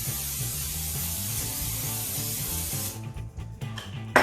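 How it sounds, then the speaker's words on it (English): A long continuous hiss of an aerosol cooking spray coating a pizza pan, steady for about three seconds, then a few short rustles and clicks. "I'm going to put my cooking spray on"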